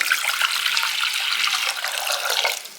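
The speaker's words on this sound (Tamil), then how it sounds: "இப்போ ஒரு சட்டியை வச்சு ஒரு மூணு டம்ளர் தண்ணி ஊற்றிக்கலாம்" Water, about three tumblers, pours steadily into a cooking pan, a continuous close splashing stream that tapers off at the end.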